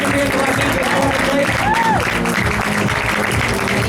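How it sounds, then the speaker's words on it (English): A crowd applauds leaders at a business training session in Los Angeles, a dense continuous clapping that stays loud throughout, with voices and cheering mixed in. "Give me a round of applause to all of our leaders here in Los Angeles."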